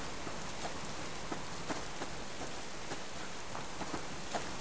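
Steady rainfall in the survival video game Subsistence, a constant soft hiss of drops pattering on surfaces with faint scattered ticks, even and unbroken with no other sounds.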